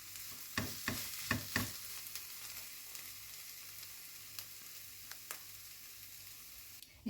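Onions fry with spices in a pan, a steady close sizzle broken by several sharp scraping stirs of a utensil early on and a few lighter knocks later.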